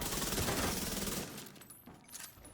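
Rapid automatic gunfire rattles in a dense burst in the shooter game The Division, loud for over a second and then cutting off into scattered fainter impacts.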